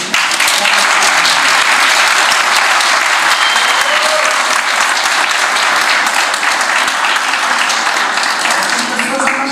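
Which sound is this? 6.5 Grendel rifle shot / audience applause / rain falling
audience applause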